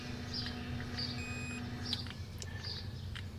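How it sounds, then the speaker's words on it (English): With the key on, an old hot rod's EFI-converted interior gives off a repeating electronic beep, several short chimes spaced about a second apart, fairly faint over a steady low hum. "Yeah, that annoying buzzer is back."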